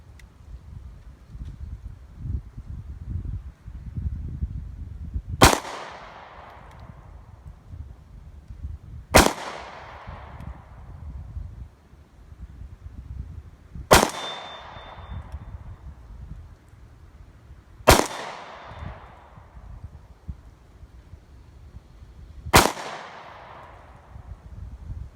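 Five loud, sharp gunshots from a Smith & Wesson M&P Shield 9mm pistol at an outdoor range, spaced several seconds apart, each with a crisp crack and short ringing decay over a quiet breezy background.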